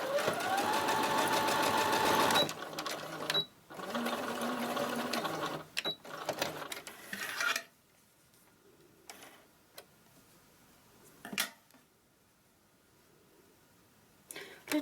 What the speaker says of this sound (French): Je vais coudre quand même pour commencer l'ourlet. Donc au point avant, avec un petit point d'arrêt